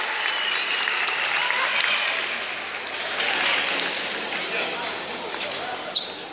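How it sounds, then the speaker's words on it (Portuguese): A crowd applauds the three classified finalists at a Pathfinder club event, a dense, sustained clatter of clapping filling the space with voices and cheering mixed in. "Uma salva de palmas para os 3 classificados."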